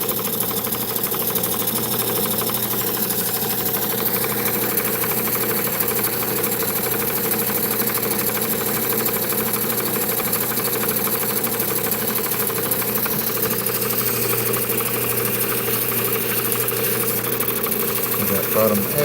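A rock-cutting machine slices turquoise and jasper, a steady loud whirring drone with continuous grinding hiss that holds evenly throughout without pause.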